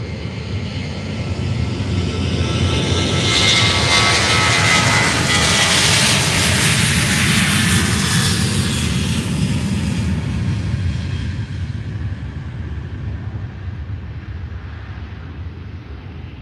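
Airliner jet engines at Faro airport after pushback, a loud steady roar that swells over the first seconds, holds strong, then eases slightly toward the end, with no talk.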